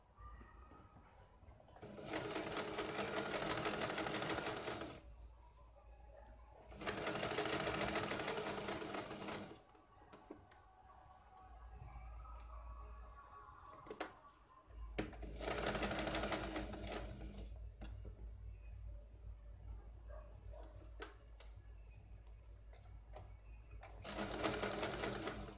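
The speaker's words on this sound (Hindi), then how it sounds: "अब इसको गले के ऊपर कैनवास के साइड से हम यहाँ पे एक सिलाई लगाते हैं।" Sewing machine stitching along a blouse neckline from the canvas side, loud rapid mechanical chattering in several bursts of a few seconds each, separated by quieter pauses with faint handling noises.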